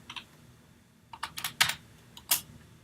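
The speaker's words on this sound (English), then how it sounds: "Now let's go ahead and type our y values." Numbers are typed on a computer keyboard, coming as short bursts of crisp, close key clicks with brief gaps in between and no talk.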